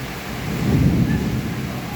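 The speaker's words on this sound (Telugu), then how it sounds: "భారీ ఉరుములు నడుమ భారీ వర్షం" A deep rumble of thunder swells and fades over heavy, steady rain pouring down in Hyderabad; no voices.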